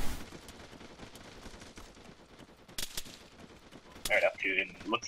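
Airsoft gunfire in an outdoor skirmish, scattered sharp pops and short bursts at varying distances, some close and loud, with voices talking near the end.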